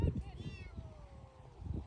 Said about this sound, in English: that's a kitten coming out of a cornfield